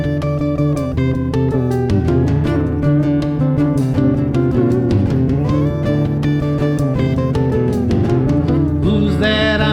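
A song plays as a full band recording, with steady rhythm and sustained harmonic instrumental lines at constant loudness, and no talk over it.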